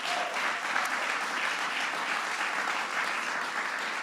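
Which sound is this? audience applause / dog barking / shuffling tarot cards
audience applause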